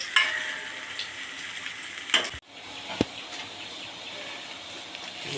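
Aloo paratha cooking in a pan on low heat gives a soft, steady sizzle, with a couple of sharp clicks and scrapes over the low frying hiss.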